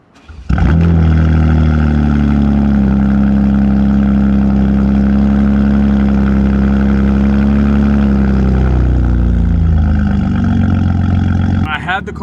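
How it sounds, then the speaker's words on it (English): BMW G80 M3 engine fires up and settles into a loud, steady rumbling exhaust drone that holds for about ten seconds and then tapers off, close and continuous. "Let's turn this on and let's go for a drive."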